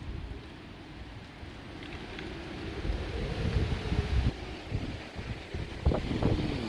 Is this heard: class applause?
no